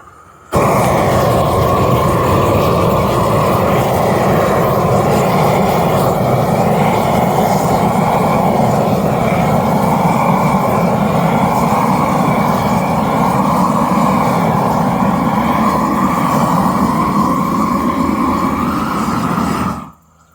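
A gas torch flame roars steadily and loudly while scorching wooden deck posts in the Shou Sugi Ban style, a constant broad rushing hiss that holds evenly for nearly twenty seconds before cutting off.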